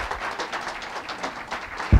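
A live audience gives a warm round of hand claps at an indoor gathering on a cold winter day, a steady wash of many hands clapping at moderate distance that fills the whole moment without voices.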